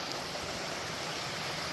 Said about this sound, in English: I think I hear a waterfall coming up.